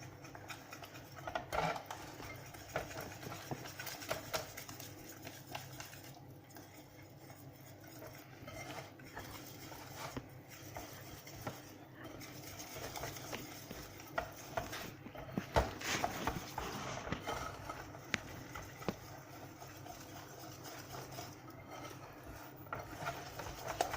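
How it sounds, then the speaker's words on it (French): Savory mini cake batter with baking powder is mixed in a bowl, making faint, quiet scraping and ticking strokes of a utensil against the sides in an uneven, steady rhythm. "Il faut bien mélanger pour ne pas avoir la farine qui reste sur les côtés."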